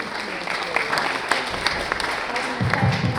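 Audience applause fills a mayoral candidate forum hall in Orange County, a steady clatter of hands with a few sharper claps and some voices underneath toward the end.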